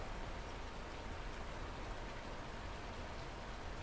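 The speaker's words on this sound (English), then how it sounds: "Hopefully the rain will be done." Steady rain pours in the video game Farming Simulator 19, a dense, even hiss of falling drops at moderate level with no other sounds.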